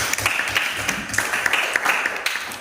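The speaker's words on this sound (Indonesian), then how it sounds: "tepuk tangan dulu untuk kita semua" Students clap together in a classroom, a dense patter of many hands at a steady moderate level that runs throughout without a break.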